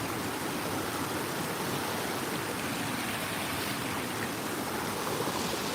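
A river flows with a dense, steady broadband rush of moving water close by, continuous and even with no voices.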